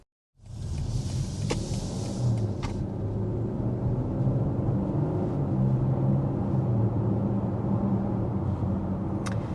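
A 2025 SUV with an 8-speed automatic pulls away gently from inside the cabin, a low steady engine and road rumble that stays even and subdued throughout.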